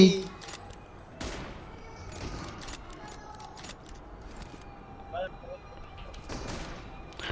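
Sparse sniper-style gunshots in a mobile shooter game's TDM M24 match, a few sharp reports spaced several seconds apart against quiet game ambience with someone talking at times.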